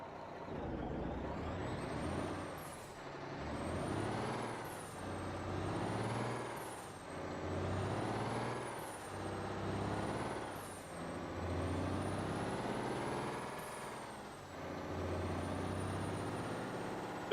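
Heavy-haul truck with a 285 hp engine pulling a 187,392 lb load in American Truck Simulator, its engine droning and revving in repeated swells, with whining tones rising and falling and brief air hisses between them, steady and loud with no talk.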